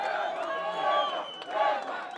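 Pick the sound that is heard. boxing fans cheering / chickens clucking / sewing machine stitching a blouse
boxing fans cheering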